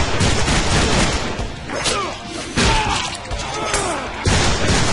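Loud bursts of gunfire from the Deadpool video game, dense overlapping shots and impacts in several heavy waves with brief lulls between them, close and dominant.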